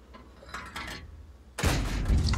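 Tank cannon shot in World of Tanks, a single sharp loud blast and rumbling tail following a quieter mechanical stretch.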